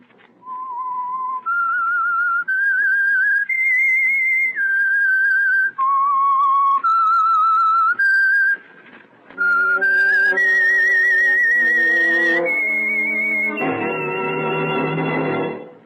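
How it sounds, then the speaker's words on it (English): A lone whistler performs the eerie signature melody of The Whistler radio program, clear sustained notes stepping up and down, with orchestral accompaniment swelling in near the end. "That whistle is your signal for the Signal Oil Program, The Whistler."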